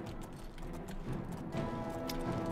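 A horse's hooves clip-clop steadily while riding in the video game The Elder Scrolls IV: Oblivion, quiet and rhythmic, with no talking.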